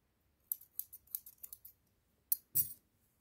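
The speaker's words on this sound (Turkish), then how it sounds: "İpimi uzun keseceğim ben burada" Scissors snip crochet yarn in quick close, crisp clicks, a brisk series of small cuts followed by a pause and two final snips, faint against a quiet background.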